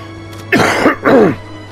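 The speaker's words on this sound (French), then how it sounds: "Je tousse encore un peu, les amis, veuillez m'en excuser." A man clears his throat and coughs in two harsh bursts close to the mic, with a steady low hum behind during a Tintin: Cigars of the Pharaoh gaming session.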